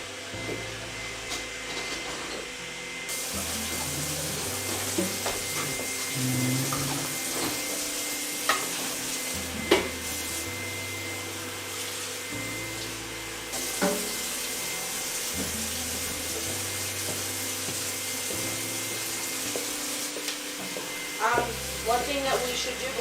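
Running water splashes and scrubbing clatters as a cast iron frying pan is washed in a sink, with a faucet flowing steadily and occasional knocks of metal.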